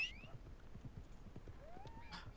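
A horse in the Red Dead Redemption video game whinnies at the start and again near the end, faintly, over a steady patter of hoofbeats, with no talking.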